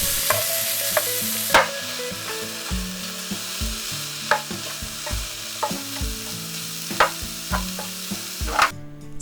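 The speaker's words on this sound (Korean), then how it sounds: "팬에 기름을 두르고 채 썬 당근을 넣고 볶아줍니다" Julienned carrots stir-fried in oil in a pan: a steady sizzle runs throughout, with repeated clacks and scrapes of a utensil tossing the strips against the pan.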